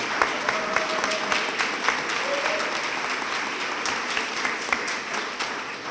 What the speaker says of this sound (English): I'd like another round of applause